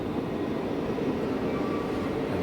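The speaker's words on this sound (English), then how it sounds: "And there comes my train" A Rotterdam RET metro train pulls in at the platform, a loud steady broadband rumble and roar that holds throughout with no talking.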